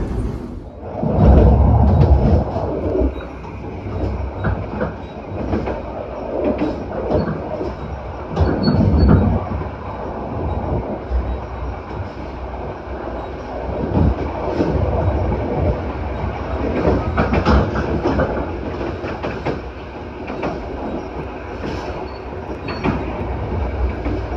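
A KA Malabar economy train runs along the rails, heard from inside the rear carriage as a continuous rumbling roar with faint wheel clatter and occasional squeals, steady and moderately loud.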